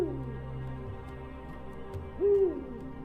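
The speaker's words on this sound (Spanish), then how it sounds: "El búho cornudo americano es una de las especies de búhos más grandes" A great horned owl (Bubo virginianus) hoots alone in a quiet wild setting, giving a single low, mellow call that rises and then falls, heard clearly over a faint steady background hum.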